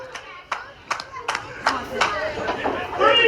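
A wrestling crowd at a two-out-of-three-falls match claps in scattered, uneven bursts under chatter, the applause building toward the end while a commentator talks over it.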